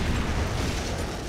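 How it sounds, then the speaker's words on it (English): Bombing explosions rumble in a real-time strategy game as Vindicator bomber units attack, with a continuous dense low roar and crackle of overlapping blasts, loud and steady throughout with no talk. "Now we got some bombing going on."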